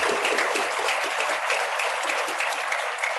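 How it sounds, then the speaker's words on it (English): An audience at an esports business conference panel breaks into dense, steady applause, with many hands clapping together throughout and no voices over it. "So let's give her another applause."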